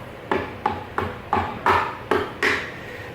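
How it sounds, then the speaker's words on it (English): A nylon hammer taps on a Miata engine part during an engine teardown, seven evenly spaced dull knocks that ring briefly, close up and fairly loud. "Got my nylon hammer."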